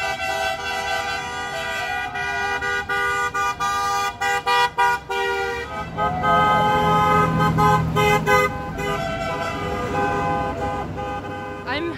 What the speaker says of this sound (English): I hear honking, which means that trucks are just starting to arrive.